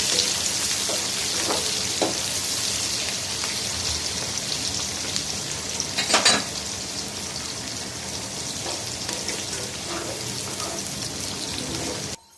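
Onions frying in hot ghee give a steady, even sizzle that carries on unbroken for the whole stretch, with a brief louder crackle midway.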